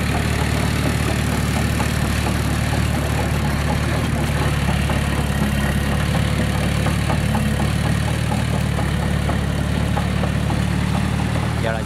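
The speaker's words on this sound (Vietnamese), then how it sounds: "Đây là một chiếc xe ủi Komatsu, ở bên trong là động cơ 4 máy" A Komatsu bulldozer with a four-cylinder engine runs steadily at close range in a field, giving a continuous loud diesel drone with a faint knocking rhythm and no talk.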